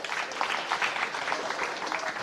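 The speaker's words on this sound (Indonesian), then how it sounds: "Tepuk tangan buat Pak Bupati." An audience at an anti-drug school programme launch in Belitung Regency applauds the regent, with faint, steady clapping heard at a distance for about two seconds.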